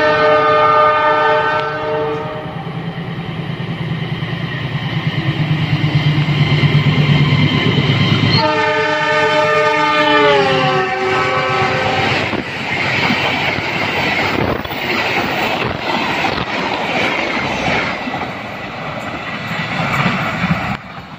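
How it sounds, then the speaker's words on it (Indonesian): Argo Wilis passenger train hauled by a CC206 locomotive passing through rice fields, opening with a long, loud multi-tone horn blast, then a second horn, followed by the roaring rumble and clatter of the cars rushing close by. "Suara S35 dari ke Argo Wilis ini sudah terdengar."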